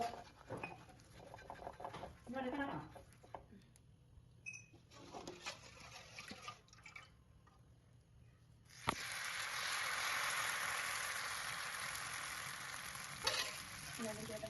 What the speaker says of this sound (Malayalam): ദോശ ചുട്ട് നോക്കിയാലോ